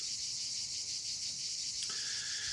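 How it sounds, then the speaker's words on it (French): Cicadas sing in a summer setting, producing a dense, steady, high-pitched buzzing drone that continues without a break, with a slight shift in pitch near the end and no voices. "le chant des cigales pendant les vacances"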